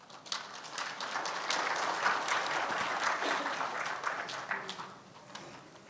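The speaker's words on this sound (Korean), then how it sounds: "큰 박수로 맞이해 주시기 바랍니다." Audience applause at a policy forum of the Committee for the Five Northern Korean Provinces, sustained clapping from a room full of people, steady and fairly loud for several seconds before easing off.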